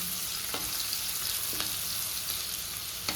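Chopped onions fry steadily in oil in a pan for Andhra-style palak pappu, a continuous close sizzle with a few faint taps of a spoon against the pan.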